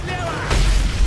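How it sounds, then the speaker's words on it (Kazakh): A mortar shell explodes in a combat video game, a sudden low boom around the middle that swells into a broad rumbling roar and keeps on, after a stretch of fainter battlefield noise. "Взрыв справа! Минометный огонь справа!"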